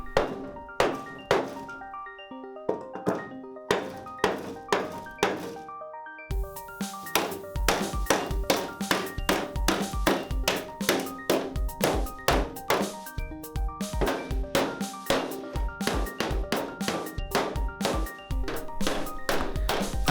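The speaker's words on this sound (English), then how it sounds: "a hammer and a block of wood." A hammer strikes a block of wood against a dented Land Rover Defender roof panel in repeated ringing metallic blows, close and loud, first in short bursts with pauses, then in a steady fast rhythm.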